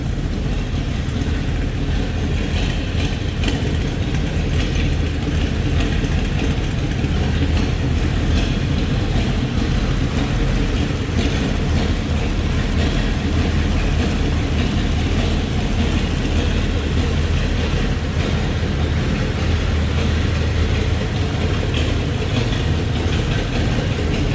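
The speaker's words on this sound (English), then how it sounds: "Sounds like an old school street rod." A 1933 Ford street rod's engine idles steadily close by for the whole stretch, a loud continuous low rumble with a rough, uneven throb and no voices.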